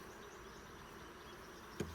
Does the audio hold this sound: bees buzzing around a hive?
yes